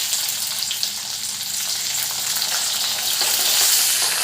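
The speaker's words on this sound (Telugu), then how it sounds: "ఆయిల్ హీట్ ఎక్కిన తర్వాత శనగపప్పు, మినపప్పు, జీలకర్ర, ఆవాలు వేసుకోవాలండి" Chana dal, urad dal, cumin and mustard seeds sizzle steadily in hot oil, a dense, loud crackle holding throughout with light stirring and no voices.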